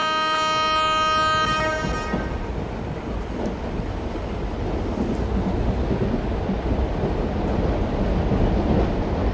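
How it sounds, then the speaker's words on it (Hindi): Mumbai Tejas Rajdhani Express, train 12951, arriving at a station: a loud horn blast at the start gives way to the steady heavy rumble and rattle of rolling coaches passing close by. "ओके हमारी ट्रेन अराइव कर चुकी है"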